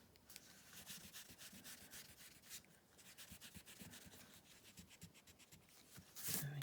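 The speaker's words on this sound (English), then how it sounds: "By the time I've rubbed out these other lines, then the middle ones will be fine to remove as well." An eraser rubs out ink guide lines on a craft card for a Scandinavian-style design, a faint, steady, rapid back-and-forth scrubbing heard close up and alone, growing a little louder at the end.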